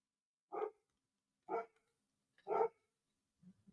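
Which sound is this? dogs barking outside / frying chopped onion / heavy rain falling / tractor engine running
dogs barking outside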